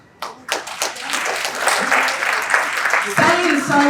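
Audience applause at an IEEE conference session starts with a few separate claps that quickly build into steady clapping, with people talking over it near the end.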